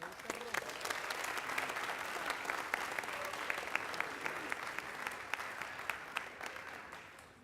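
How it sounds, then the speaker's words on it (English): An audience at a speech competition gives a round of applause for a speaker, many hands clapping in a full, sustained burst with some sharper individual claps, easing off at the very end. "Please give him a good round of applause."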